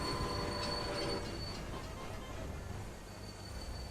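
A steam-era train in the Railway Empire game crossing the Andes, with a loud rolling rumble, a squealing wheel tone and a faint horn-like whine that eases off over a few seconds, with no talking.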